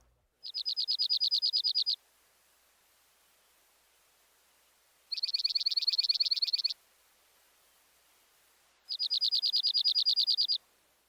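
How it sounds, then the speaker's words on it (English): Dark-eyed junco giving a bell-like trill, three ringing, evenly pulsed phrases of about one and a half seconds with pauses between, close and clear with no talking. "Now the bell-like trill of the dark-eyed junco."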